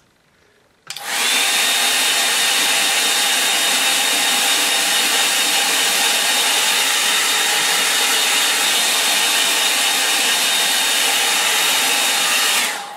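A hair dryer blows steadily on a watercolour painting of a Cornish coast scene, starting abruptly after a second of quiet and holding a loud, continuous whooshing roar with a faint whine to the end.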